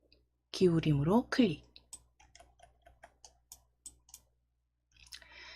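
Sharp, light clicks of a computer mouse while formatting a PowerPoint chart, about a dozen evenly spaced taps close by, following a brief burst of speech, with a faint rustle at the end.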